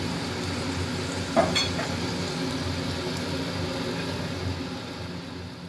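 Slit green chilies fry in hot oil for Kajoli fish curry with a continuous soft sizzle and a couple of quick stirring clinks, without speech.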